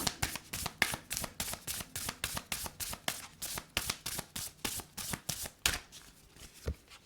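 Oracle cards being shuffled by hand, a rapid, regular run of crisp riffling slaps, about three per second, close and clear with no voices.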